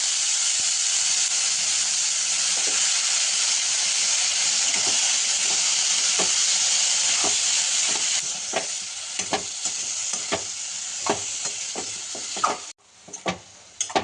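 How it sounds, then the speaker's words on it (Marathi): Hyacinth beans tumbled into sizzling masala and stirred, a loud steady frying hiss giving way to repeated scraping stirs that knock and rattle in the pan, the sizzle thinning toward the end. "आता आपण शेंगा टाकून घेऊया."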